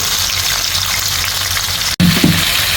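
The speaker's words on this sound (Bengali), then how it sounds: "এই পেঁয়াজটা আমি একটু বেরেস্তার মতো করে নেব, লাল লাল করে" Sliced onions frying in oil until deep brown and crisp for chicken kosha, a loud steady sizzle close by, cut by a brief break near the end before resuming, with no talking.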